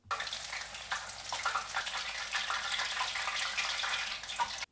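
Shrimp tempura frying in oil in a wok, a steady, hissing crackle that stays fairly faint and continuous, with no voices.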